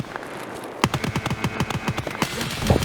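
Mounted machine gun firing in the Escape from Tarkov shooter game: after a quiet start, a rapid burst of loud, evenly spaced shots rattles on for about two seconds, ending with a heavier report.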